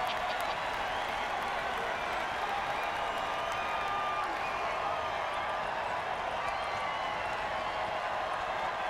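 A video game football crowd roars steadily for a full stretch of play, a dense continuous wall of cheering and applause with no breaks.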